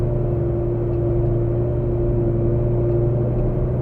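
A Lamborghini engine on a race track drones steadily and loudly, a low, continuous rumble with a strong, even hum and no clear revving peaks, close by throughout.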